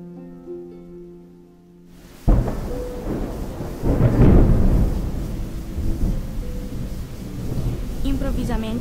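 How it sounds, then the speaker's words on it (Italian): A loud thunder boom rumbles through a storm with steady rain, cutting in abruptly after a quiet musical passage and followed by continued rolling and pattering; a voice is faintly present. "Improvvisamente il boato di un tuono fece tremare la capanna."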